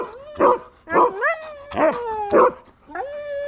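Husky dogs barking and yowling up close, several loud howling barks and whines in an uneven series, alone without talk.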